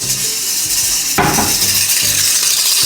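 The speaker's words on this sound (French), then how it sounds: "je dois mélanger tout le côté sec" Dry ingredients for a flan being mixed in a bowl, a steady brushing hiss of stirring with a sharper clatter of utensil against the bowl midway.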